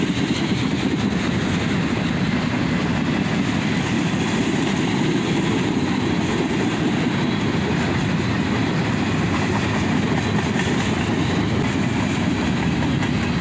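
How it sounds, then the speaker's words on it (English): A CSX manifest freight train led by a pair of AC44CW locomotives rolls steadily past close by, a continuous loud rumble of wheels on rails with faint clickety-clack, no voices. "A manifest train, led by a pair of AC-44 CWs."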